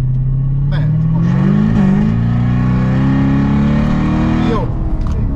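A Chevrolet Corvette C7 on the Kakucs Ring track accelerates hard, its engine note climbing steadily through the revs in one long loud pull before easing off, heard from inside with a voice speaking over it.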